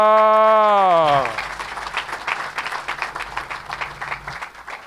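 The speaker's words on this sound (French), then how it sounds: "Acclame." Applause and crowd noise fill a church service, starting after a sustained sung or shouted note and continuing as a steady, busy clatter of clapping with some voices in the room.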